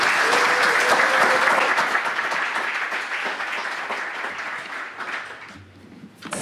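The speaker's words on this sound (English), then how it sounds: "let's give a big, loud Flutter NYC welcome to Angelina Fabbro" Audience at a Flutter NYC tech conference applauding as a speaker is welcomed onto the stage, a dense, steady burst of clapping that slowly thins and fades over several seconds.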